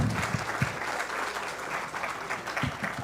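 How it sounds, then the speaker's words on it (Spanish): Audience applause at an architecture and construction engineering congress, a steady round of clapping filling the hall at moderate distance, with a few sharper individual claps standing out. "Démosle un fuerte aplauso, por favor."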